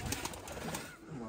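A fancier's breeding pigeons coo in low, repeated throaty calls close by, with faint voices murmuring underneath.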